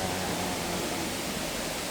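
A river and waterfall, a steady broadband rushing roar of falling and flowing water, constant and unbroken, with no voices.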